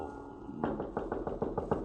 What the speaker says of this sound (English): I am on my bed when I hear a knock on my door.